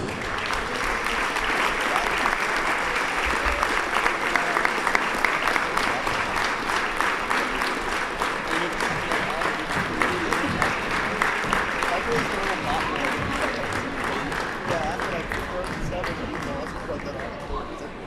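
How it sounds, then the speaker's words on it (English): A gym crowd at a senior-night boys basketball game applauds the graduating seniors, dense continuous clapping filling the room at an even level for the whole stretch, with faint crowd murmur underneath. "Got one more round of applause for all our seniors."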